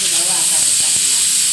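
Steam from a pressure cooker of guvariya dhokla being taken off the gas, heard as a loud, close, continuous hiss with a faint voice murmuring underneath.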